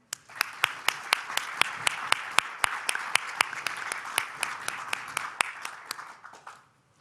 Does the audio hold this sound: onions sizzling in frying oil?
no